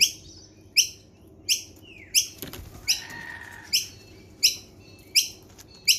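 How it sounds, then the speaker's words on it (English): Kookaburras being hand-fed call from close by, a string of short, sharp high chirps repeating at a steady pace, with faint shuffling in the background and no talk. "Oh, Kookaburra's on the table now."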